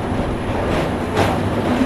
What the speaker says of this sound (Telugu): స్లోగా వెళ్తుంది ట్రైన్ అయితే.